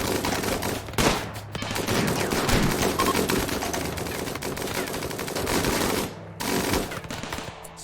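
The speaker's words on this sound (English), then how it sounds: "So many bullets." Dense bursts of gunfire from many guns in a RimWorld battle, loud and nearly continuous across the clip with brief drops in the barrage, no talk over it.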